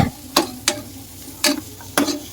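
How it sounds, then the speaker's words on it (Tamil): Chicken coated in masala is stirred in a pan for biryani, a spoon knocking and scraping the pan in four sharp, evenly spaced strokes over a soft sizzle. "இதை பார்த்தீங்கன்னா நல்லா மசாலா அந்த சிக்கனில் படுற அளவுக்கு நல்லா கிளறி விட்டுட்டே இருங்க."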